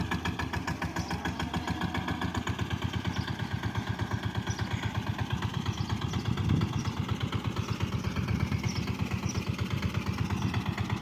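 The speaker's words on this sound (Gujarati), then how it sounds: "મિની ટ્રેક્ટર છે ન્યૂ હોલેન્ડનું સિમ્બા 20 હોર્સ પાવર" A New Holland Simba 20 hp mini tractor diesel engine runs steadily nearby, its rapid, even chugging pulse continuing throughout without a break.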